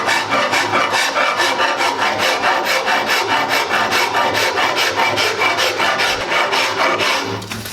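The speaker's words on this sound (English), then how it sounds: "with this coarse side of the rasp" Coarse side of a wood rasp filing down a hickory board bow, a loud, steady rhythmic scraping with quick regular strokes, close and continuous for several seconds before easing off.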